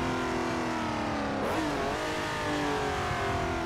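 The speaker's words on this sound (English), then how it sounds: "See, there's a car coming behind me." A steady, buzzing racing-car engine in the PC game WSCC 1967 at the Daytona Continental 24 Hours drones throughout, its pitch dipping and shifting midway as another car closes in from behind, synthetic and continuous.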